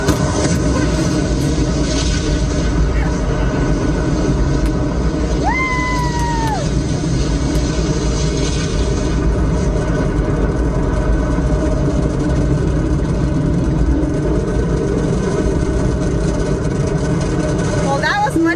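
A rocket launch sound effect plays over a Tesla Model X P100D Ludicrous+ accelerating: a loud, steady roaring rumble fills the whole stretch, with a brief rising tone partway through.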